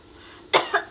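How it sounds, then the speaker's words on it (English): A single sharp cough bursts out, followed quickly by a smaller second cough, close and clear in an otherwise quiet indoor room. "It's just a cough."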